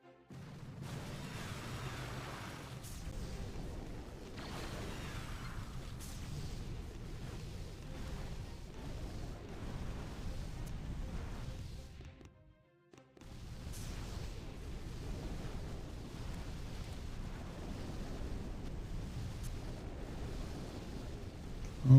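Rocket launchers fire and explode in a video game, a faint, continuous low booming rumble with overlapping blasts that drops out briefly midway before resuming.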